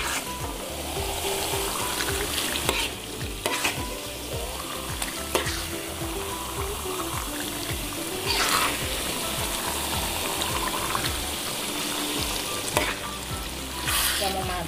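Cakalang tuna sambal sizzles steadily in a pan while a spoon stirs it, with scraping knocks and clinks at irregular intervals over a constant frying hiss, close and alone with no talk.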